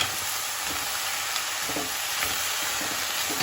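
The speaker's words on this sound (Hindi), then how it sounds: "इन सबको अच्छे से मिला लेंगे" Spices and pav bhaji masala fry in oil for Indian street-food pav bhaji, a continuous close sizzle broken by soft scraping stir strokes, with no voices.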